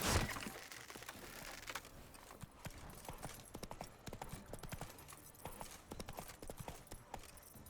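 Horse hooves clip-clop in The Witcher 3 video game, a quick, uneven run of soft, close hoofbeats continuing steadily at low volume.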